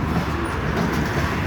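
A train rolls past on the railway near a bridge, making a continuous broad rumble of wheels and track noise that stays steady throughout.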